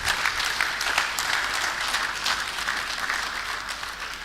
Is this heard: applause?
yes